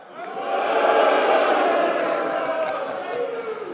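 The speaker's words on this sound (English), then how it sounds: "that cheer is always strongest in Labour-held seats" A crowd cheering at a political conference speech in Stoke, a broad roar that swells quickly and holds steady for several seconds before easing slightly.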